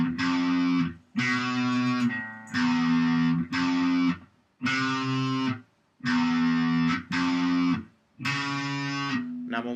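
Heavily distorted electric guitar plays a chugging riff in sustained chords, each cut off by brief pauses, loud and close with a gritty, buzzing tone.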